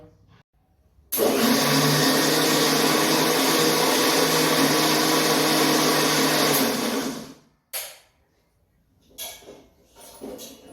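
A mixer grinder whirs loudly and steadily for about six seconds while blending amla (Indian gooseberry) chutney made without coconut, then stops, followed by a few short clunks and faint handling noises.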